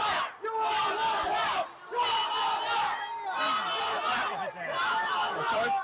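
A large protest crowd shouts and roars in loud surging waves, each burst swelling and fading, as people react to a man frightening protesters.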